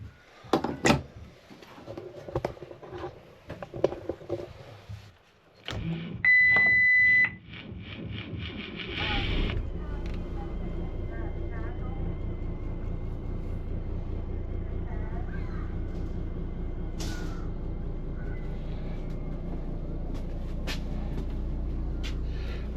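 A boat's port engine starts after a few beeps and brief talk, then settles into a loud, steady low rumble that runs on without a break.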